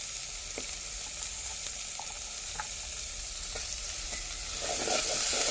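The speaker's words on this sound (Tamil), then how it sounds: "பூண்டு இஞ்சி ரெண்டையும் போட்டு நல்லா வதக்க போகிறேன்" Garlic and ginger sauté in hot oil for chicken kabsa, with a steady close sizzle and faint scraping stir clicks throughout, and the frying swells louder near the end.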